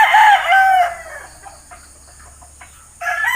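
A Gilmore Hatch gamefowl rooster crows loud and close, breaking off after under a second. A quiet pause follows, then a second crow begins at the end.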